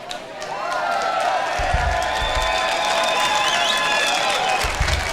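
A gig crowd at a concert cheers and applauds in a sustained, dense wash of clapping and shouting that holds steady throughout, with ringing tones sustained above it.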